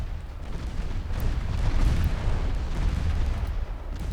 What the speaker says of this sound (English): huge battleship shells just coming down from above, completely obliterating entire ships.